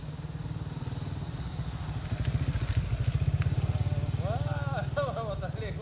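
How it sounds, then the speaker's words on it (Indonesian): A motorcycle engine runs close by with a steady rapid low putter that swells louder in the middle, as if passing, while a person speaks briefly near the end. "Wah, motor lewat."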